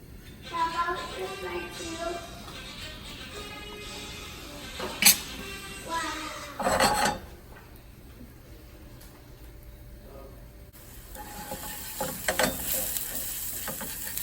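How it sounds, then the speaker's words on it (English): Garlic and a shallot sautéing in about two tablespoons of oil, a low steady sizzle with occasional stirring clatter and scrapes, fairly faint throughout. "about 2 tablespoons of oil, 2 cloves of garlic, and 1 shallot. And you saute it until aromatic"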